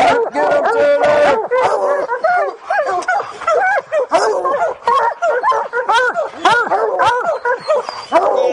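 Bear hunting hounds bark, yip and whimper close by in a rapid, nearly continuous outburst of overlapping barks that stays loud throughout.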